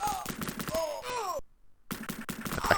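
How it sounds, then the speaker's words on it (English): Retro Sega Mega Drive gunfire from Cannon Fodder rattles in rapid bursts with descending electronic tones, then cuts to a brief silence before more shots resume. "Is he shooting me in the water, or is he just following me?"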